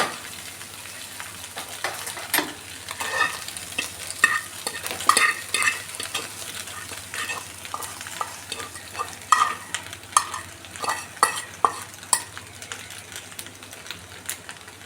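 Fried chicken and egg being stirred into Chinese-style pasta in a pan: a quick run of scraping, tapping utensil strokes over a soft sizzle, busy and close for the whole stretch, with no one talking.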